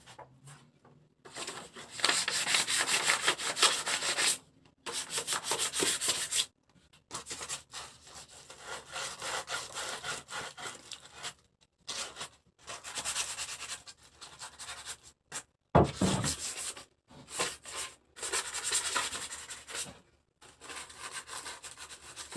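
Hand sanding scuffs the shiny factory finish off a gun to prepare it for camo paint, giving repeated rough scratchy strokes in bursts with brief pauses between them, close up and fairly quiet.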